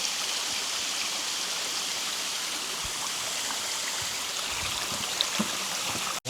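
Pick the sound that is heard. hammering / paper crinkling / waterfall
waterfall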